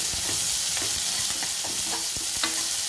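Onion, green chili and curry leaves are sautéed in a pan for onion rice, giving a loud, close, steady hiss of frying with a few soft stirring scrapes at irregular intervals and no voices.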